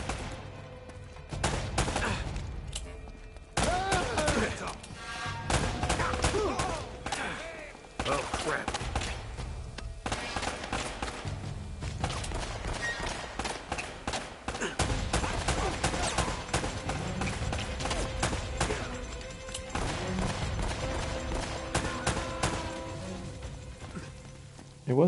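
Rapid bursts of gunfire from the video game Uncharted: Drake's Fortune fill the whole stretch, dense and continuous with scattered sharper cracks, while a player talks over the action.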